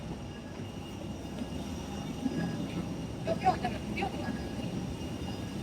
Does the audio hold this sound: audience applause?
no